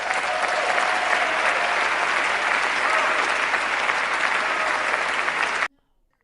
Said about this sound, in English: Sounds like everyone stood up, Hillary, and applauded.